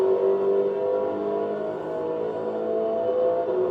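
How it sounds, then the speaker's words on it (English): A Ford Focus RS race car engine revs hard on a circuit, held at high revs in fifth gear with a steady, droning whine, loud and close, lasting throughout without speech. "Up to 5th, you want to rev the car out along here."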